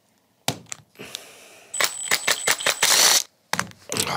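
Mechanical clicks and a ratcheting, gear-like rattle as a Phillips screw is turned out from inside a Makita drill chuck, in short bursts with gaps between, close and moderately loud.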